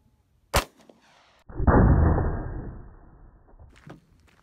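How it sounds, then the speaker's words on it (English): A sharp 9mm gunshot from a Smith & Wesson M&P 9 fired at plywood, followed about a second later by a loud, booming impact that fades over two seconds, then faint clatter. "On to 9mm out of the Smith & Wesson M&P 9."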